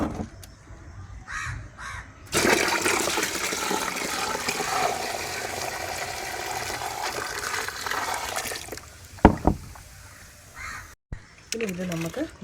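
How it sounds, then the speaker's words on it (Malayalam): Water poured into cow dung slurry to dilute it for a homemade plant booster, a loud steady gushing pour lasting several seconds between short stretches of talk, with crows cawing nearby. "ഇനി നമുക്കിതിനകത്തോട്ട് വെള്ളം ഒഴിച്ച് ഇത് ഡൈല്യൂട്ട് ചെയ്യാം."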